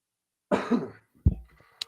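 Two quick coughs close up, the first fuller and longer, the second short and sharp, with silence around them.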